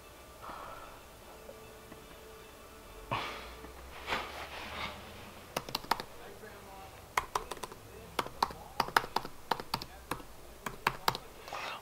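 Fingers tap crisp, rapid clicks on a 2017 MacBook Pro keyboard, the keystrokes arriving in quick irregular bursts close to the mic, with a person's muffled voice and breathy sounds mixed in at the start.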